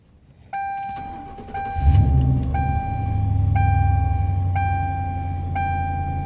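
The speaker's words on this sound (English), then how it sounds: "It's always fun to get new exhaust and hear what it sounds like." Mercury Grand Marquis with a freshly fitted dual exhaust cranks and fires up after repeated chime tones, then settles into a steady, moderately loud low idle rumble with no talking.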